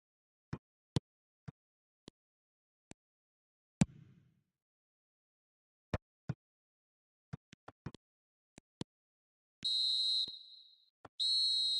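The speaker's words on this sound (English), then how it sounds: "And the half-time whistle goes" A referee's half-time whistle in the eFootball video game blows in two shrill sustained blasts near the end, after a series of sharp isolated clicks over near silence.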